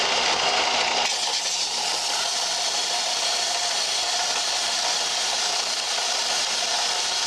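Belt/disc sander running 80-grit abrasive against metal, a steady loud broadband grinding roar that holds for the whole stretch, slightly shifting in tone after the first second.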